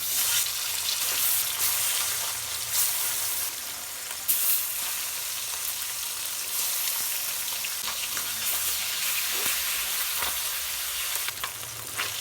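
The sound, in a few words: fish frying in hot oil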